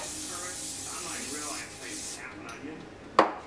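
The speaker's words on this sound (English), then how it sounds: "And then you just gotta spray the pan with coconut oil." A short hissing spray of coconut oil onto a cookie pan, close and soft, fading out halfway through before a small sharp knock near the end.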